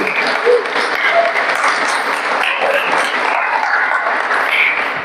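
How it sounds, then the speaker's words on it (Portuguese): Congregation applauding during a church sermon, a dense, steady wash of clapping hands sustained throughout at moderate loudness with some voices mixed in. "dá uma salva de palmas para Jesus"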